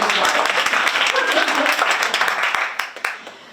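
An audience at a panel discussion gives a panelist a round of applause, dense and even at first, then thinning into scattered claps and fading out near the end.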